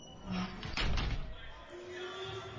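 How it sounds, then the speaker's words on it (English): A train car door slides open on a transit platform: a brief muffled thump and rattle mid-clip over steady low station rumble, followed by a faint sustained hum. "so she opened the train door."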